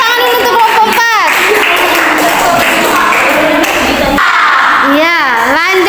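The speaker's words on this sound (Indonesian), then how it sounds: "Tepuk tangan dulu untuk kelompok 4." An eighth-grade classroom breaks into applause during a quiz contest, a broad wash of clapping mixed with children's voices and shouts sweeping up and down.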